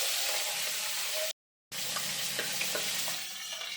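A fish head fries in oil with five-spice seeds and a bay leaf, giving a steady crackling sizzle that cuts out briefly, then resumes with small pops and spattering.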